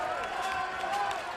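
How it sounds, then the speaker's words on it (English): A baseball crowd roars after a walk-off hit in an Australian Baseball League game, Perth Heat against Adelaide Giants. The cheering is a steady, dense wash with a commentator talking over it. "And listen to this crowd."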